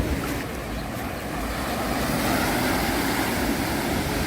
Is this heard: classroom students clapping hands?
no